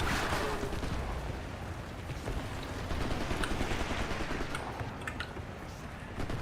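Continuous gunfire in Wolfenstein, a dense rattling barrage of shots with crackling bursts that stays loud throughout.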